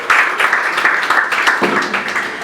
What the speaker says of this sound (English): let's give a round of applause to Aniki.